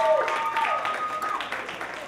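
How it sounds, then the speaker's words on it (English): Seminar audience at Saint Thomas More clapping for participants, a short burst of applause with voices and tones mixed in, fading slightly over two seconds. "can we give all of these participants a big round of applause?"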